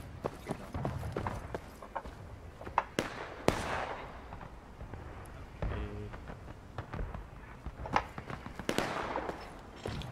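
Civil War artillery and scattered gunfire in War of Rights, heard as distant, fairly faint booms and cracks irregularly spaced amid background battle noise.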